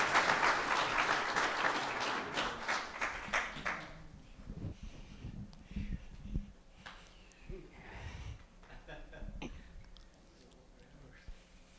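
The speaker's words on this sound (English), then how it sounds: "let's give her a round of applause" Applause from a church congregation at a Sunday service, dense and loud for about four seconds, then fading into scattered claps, sniffs, coughs and shuffling in the room.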